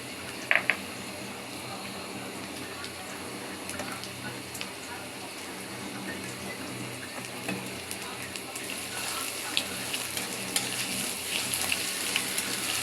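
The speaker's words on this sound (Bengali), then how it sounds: "তেল আর হইলো পেঁয়াজ একটু ভাজা দিয়ে নিই" Onion and spices frying in oil while a dried bamboo-leaf fish (chepa shutki) dish is prepared: a steady, close sizzle with a few sharp crackles and spatters, continuing without a break.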